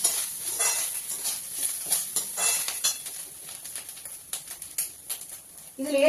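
A single dried red chili fries in tempering oil: a soft, close sizzling hiss runs throughout, broken by light clinks and scrapes of stirring.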